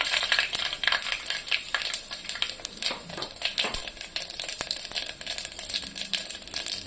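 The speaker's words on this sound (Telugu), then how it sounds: "కుక్కర్లో ఒక 4 టేబుల్ స్పూన్స్ ఆయిల్ వేసుకొని ఆవాలు, జీలకర్ర వేసుకుంటున్నాను" Mustard seeds and cumin frying in about four tablespoons of oil in a pressure cooker on the stove, a close, continuous crackle and sizzle with rapid popping and occasional metallic clinks of stirring.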